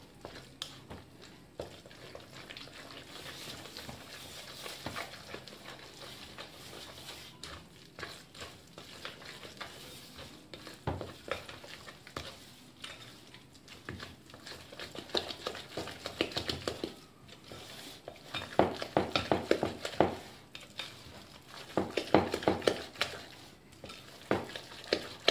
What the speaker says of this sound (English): Mga 2 minutes nating halo para mahalo talaga yung flour.